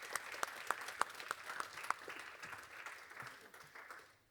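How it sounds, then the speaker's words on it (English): A conference audience applauds two co-founders being welcomed on stage at a blockchain event, a steady wash of clapping that swells and then fades out near the end. "Round of applause."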